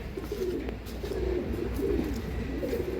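Pigeons of an original couple Daddy-line breed, offered for sale from Andhra Pradesh stock, coo in low soft murmurs over steady background noise.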